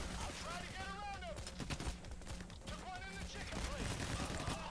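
Shotgun gunfire during a firefight in the video game Payday: The Heist: rapid repeated shots and heavy clatter pack a dense, loud mix, with voices talking and shouting over it the whole time.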